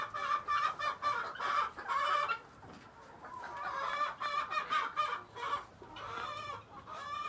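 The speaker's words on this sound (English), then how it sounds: "We're gonna take one last lap inside of this chicken coop right here" Silkie chickens cluck inside a chicken coop, a run of close, repeated clucks and short calls coming in uneven bursts, with no talking.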